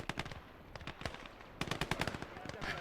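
A PPSh submachine gun fires in the Gates of Hell World War II game in rapid automatic bursts, sharp close cracks in two quick volleys with a short pause between them.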